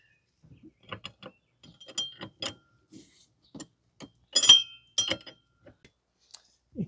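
Metal wrench clinking and ratcheting on the rear shock of a 2015 Toyota Sienna 3.5 V6 during shock replacement: a sparse run of sharp, close metallic ticks and clanks with quiet gaps between them, no talking.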